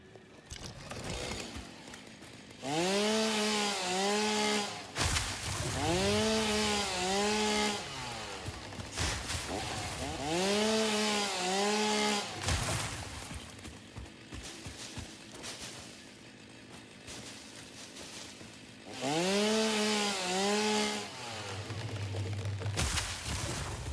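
A chainsaw in the video game Satisfactory revs in loud bursts, four separate runs of a few seconds each with quieter idle gaps between them, with no talking.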